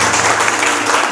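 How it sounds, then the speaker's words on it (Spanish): Applause for a married couple welcomed at a church youth meeting, a dense, steady burst of many hands clapping close by, with faint voices mixed in. "Un aplauso también,"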